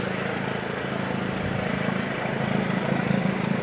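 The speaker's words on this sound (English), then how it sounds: "I've never had a police helicopter this close." A police helicopter flying low over a house gives a steady, loud rotor and engine drone with a constant low hum, unbroken throughout.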